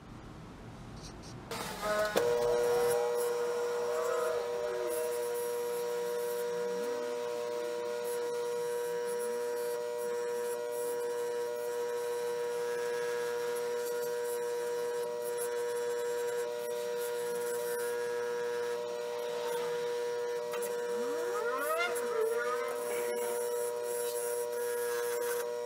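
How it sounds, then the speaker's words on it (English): A fiber buffing wheel spins against the blade of a vintage Schrade Walden knife under restoration, giving a steady whining hum with a strong tonal drone and intermittent rising scrapes as the steel is pressed in, close and loud throughout. "So let's see what the fiber wheel does on the blade."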